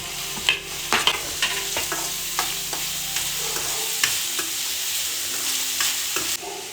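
Onion, beans and carrots stir-fried in a pan, with a steady sizzle and repeated scraping spatula strokes close by, no talking.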